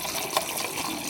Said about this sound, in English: all I mean is I fill up my Hydrojug